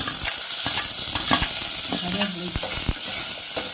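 Tomatoes and garlic sauté in a pan for a black-eyed pea kulambu, giving a steady close sizzle broken by sharp scrapes and clicks from a stirring spoon, with no talking.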